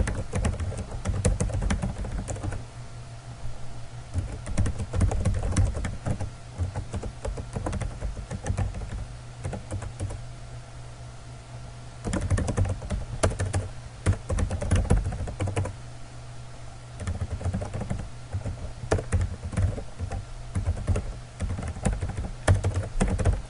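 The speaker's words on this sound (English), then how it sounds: "So I'll just go ahead and type mine real quick." Someone types on a computer keyboard in rapid clattering runs of keystrokes, broken by brief pauses, close and steady throughout with no voices.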